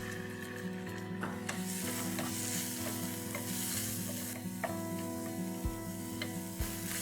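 Chopped onion frying in oil with crackled cumin seeds and ginger garlic paste, a steady close sizzle with occasional light spoon taps against the pan, no talking.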